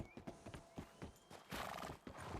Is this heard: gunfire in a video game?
no